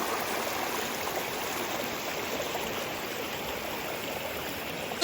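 River water flows steadily at Poole Mill in Georgia, a natural rock slide spot, giving a constant broadband rush with no voices.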